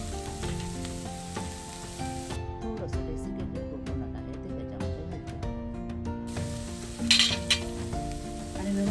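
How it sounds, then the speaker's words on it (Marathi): Guar bean kheema with ground peanut and coconut sizzles in a pan while being stirred, giving a steady frying crackle with scraping and clinking strokes throughout. "आता व्यवस्थितरित्या परतून घेते आणि झाकण लावून थोडा वेळ वाफेवर ठेवते"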